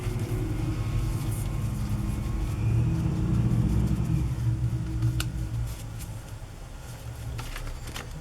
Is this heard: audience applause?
no